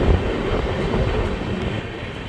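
The 12259 Duranto Express runs on rails in India's Delhi–Kanpur section, giving a steady, loud, close rumble of wheels and carriage noise with no break and no voices.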